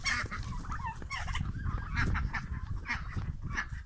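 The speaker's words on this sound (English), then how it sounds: "See if I can chase the ducks down and get a nice picturesque picture of them" Domestic ducks and geese by the water at Seaview, a busy chorus of overlapping honks and quacks, loud and close, with the calls repeating steadily throughout.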